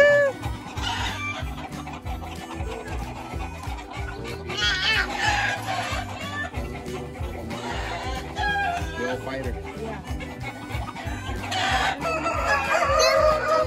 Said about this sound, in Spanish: Un gallo grande.